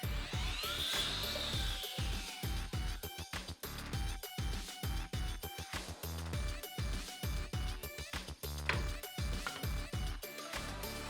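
A power saw cuts a wooden piece to length for a coat rack built from piano keys, running as a steady, dense buzzing whir with rapid rhythmic pulsing throughout.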